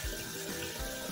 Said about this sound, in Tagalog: And we will add a little bit of water